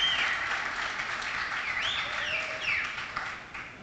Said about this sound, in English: I want to hear a round of applause for the team at the Niagara Falls Innovation Hub